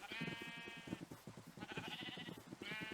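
Several sheep bleat one after another in a hardcore survival farming game, loud and close, with overlapping calls forming a near-continuous chorus as the flock is herded toward a farm.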